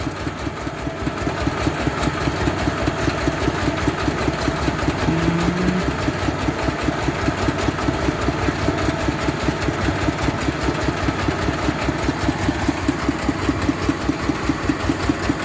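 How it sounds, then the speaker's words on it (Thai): A Thai walk-behind tractor engine chugs steadily at close range, its rapid, even knocking pulses continuing throughout with no talking over it. "รถไถเดินตามนะครับ"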